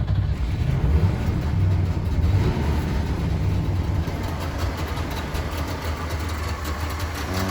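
A 1981 Wartburg 353W two-stroke engine cranks and runs on choke, a loud, steady, buzzing drone close by that holds for several seconds and eases slightly toward the end, with no one talking.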